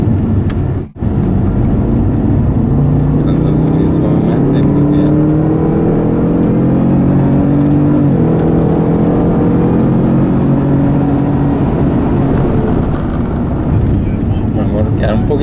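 Jaguar car engine on a race track under gentle throttle, a loud steady in-car drone with slowly climbing revs and a gear change, an instructor speaking throughout.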